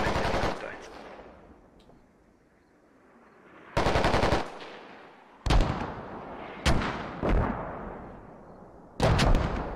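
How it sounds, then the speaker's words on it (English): Heavy gunfire and booming impacts in the military shooter game Squad, with mortar shelling among them: several loud separate bursts and blasts with short gaps, sharp onsets and rumbling decays, close and dominant. "I'm also hearing mortars."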